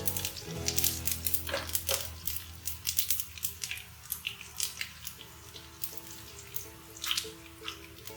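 Cumin seeds and whole spices sizzle in hot oil, a steady crackling hiss broken by sharp pops and spits, close and fairly quiet throughout.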